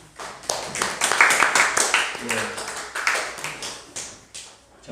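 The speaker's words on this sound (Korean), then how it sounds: "우리 박수로 환영합시다" A church congregation claps during a Sunday worship service to welcome a newly registered young member, the clapping light and scattered, with overlapping chatter from the crowd throughout.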